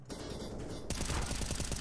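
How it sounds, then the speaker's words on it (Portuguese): Counter-Strike gunfire on the Nuke map during a professional IEM Cologne match: a sudden run of rapid, evenly spaced shots breaks in partway through over steady game ambience and stays loud to the end. "toma disparos, foi eliminado pelo Glaive"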